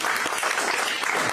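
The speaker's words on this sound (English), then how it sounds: "Give yourselves a round of applause." A crowd at a presidential campaign event breaks into brief, dense applause, a continuous wash of many hands clapping at once, close and loud.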